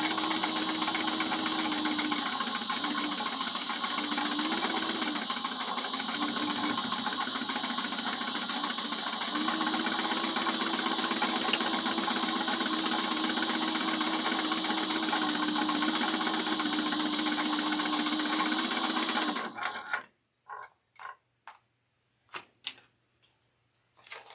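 Sewing machine stitching a small bowler bag, a steady continuous motorized whir for about twenty seconds, then stopping, followed by a few short separate bursts of stitching.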